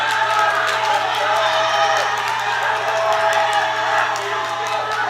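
Crowd cheering and whooping at a women's junior powerlifting world championship during a deadlift attempt, a loud sustained roar of shouts and yells from spectators that holds steady without pause.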